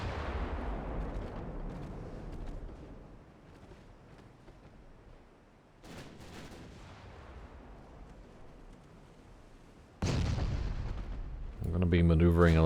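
In the naval video game Ultimate Admiral Dreadnoughts, warship main and secondary guns fire in a few deep, booming blasts with long rumbling decays, the last blast loud and abrupt near the end.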